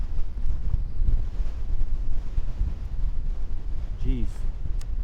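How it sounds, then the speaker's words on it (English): Strong wind buffets the microphone while fishing, a constant rumbling roar across the whole stretch, with a person talking briefly in the background. "Jeez, that wind is no kidding."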